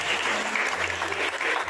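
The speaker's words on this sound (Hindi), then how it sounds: "तालियां बजती रहे।" An audience claps steadily at a quiz competition prize announcement, a dense, even burst of applause from many hands filling the short moment.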